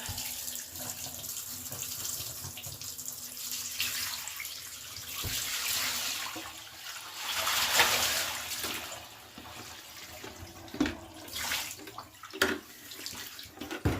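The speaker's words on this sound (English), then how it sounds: "then you can see just how filthy that water is that's coming out" Dirty water from washing alpaca fleece draining out of a bathtub, a steady close rushing and gurgling flow lasting throughout with a few louder splashes near the end.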